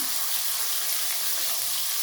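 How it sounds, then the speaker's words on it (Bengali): Katla fish pieces frying in a pan for a home-style doi katla, giving a steady, dense sizzle that runs unbroken and fairly loud throughout, with no talking. "মাছগুলোর এক সাইড ভাজা হয়ে গেছে, আমি আবার উল্টে আর এক সাইড করে দিয়েছি"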